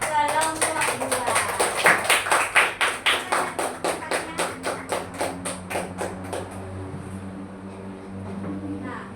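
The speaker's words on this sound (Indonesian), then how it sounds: "tepuk tangan untuk kelompok 2" Classroom applause for a student group: a burst of rhythmic, fairly close hand clapping from a class, holding a steady beat for about six seconds before fading out.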